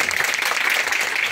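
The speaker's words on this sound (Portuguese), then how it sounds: "Palmas para ele." Audience at a church women's congress clapping for physiotherapist Edson Barbosa, a brief, dense burst of applause close by.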